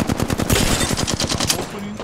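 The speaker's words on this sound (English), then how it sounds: "I'm getting shot." Rapid gunfire in Apex Legends, a close, loud burst of quick repeated shots in steady rhythm, continuous for about two seconds.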